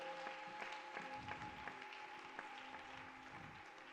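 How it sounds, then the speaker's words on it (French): Congregation clapping during a French-language prayer service in church, rhythmic hand claps mixed with sustained instrumental tones, moderately distant and steady throughout. "Applaudissons pour les rois des rois."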